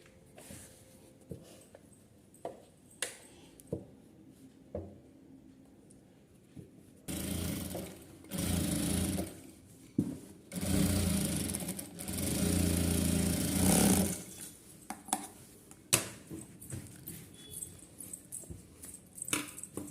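A sewing machine runs top stitching on a long puff sleeve in a burst of about seven seconds, a steady close whirring that stops, with faint handling clicks before and after.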